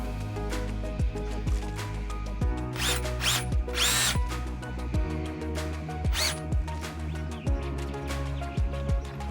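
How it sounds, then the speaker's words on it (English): A power drill drives screws into a wooden garden bed, its motor whirring steadily up and down in pitch with short bursts of higher-pitched grinding, close and loud with no talking. "I'm actually going to drill one screw in partially to hold it"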